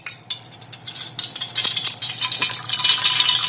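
Half a cup of oil is poured into a cooking pot while making Hyderabadi mutton tahri, giving a steady close hiss and crackling sizzle that builds slightly over a few seconds, with faint clinks and no voices.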